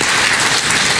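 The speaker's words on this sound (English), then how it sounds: "Give yourselves a round of applause" Dense, steady clapping from a large crowd fills the whole moment at close range, a continuous wash of many hands with no pauses, at a concert by a symphony orchestra.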